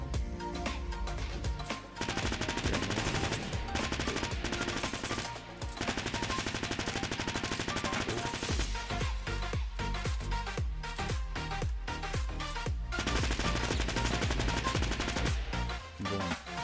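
Bursts of submachine gun fire ring out in the video game Fortnite, with rapid rattling volleys and brief pauses, loud and dense across the whole stretch, with no speech.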